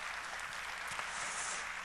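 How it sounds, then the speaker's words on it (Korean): A church congregation at a Wednesday service claps steadily as a vocal ensemble returns to their seats, a dense, even wash of many hands that holds at a consistent level throughout, with no talking. "우리 다 들어가실 때까지 박수하겠습니다"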